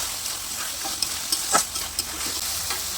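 Chicken cooks with ground spices in a hot pan, sizzling steadily while a spoon scrapes and stirs in several short, sharp strokes, close and without talk.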